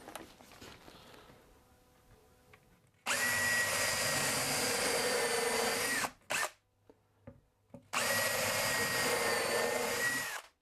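A power drill drives screws into a plywood wall cabinet in two long, loud whirring runs of about three seconds each. Quieter handling noise comes before and between them, and no one speaks.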